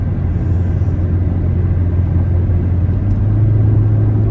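A car drives along with a steady, loud low engine drone and road rumble that hold throughout, no voices heard.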